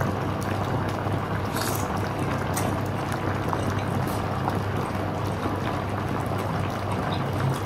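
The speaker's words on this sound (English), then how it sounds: "the sound the meat makes as you move it through this water" Dashi broth bubbles and simmers steadily while liquid swishes gently as shabu-shabu meat is moved through it, close and continuous.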